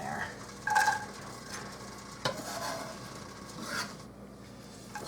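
Food goes into a hot pot for cabbage and vegetable soup, giving faint scattered sizzles and scraping stirs. The sound comes in short bursts over a low background.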